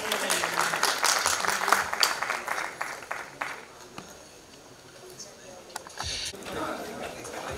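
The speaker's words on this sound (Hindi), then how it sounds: "अपने दर्शकों से निवेदन करते हैं डॉक्टर विनय सहस्त्रबुद्धे जी का अपने तालियों से सम्मान करें।" An audience at a stage event honoring a guest claps, a dense burst of applause that thins out and returns more softly, with speech heard alongside.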